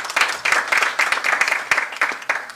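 An audience claps at a public finance institute event. The applause is moderate and slightly uneven, with individual claps standing out in a rough rhythm, and no one speaks over it.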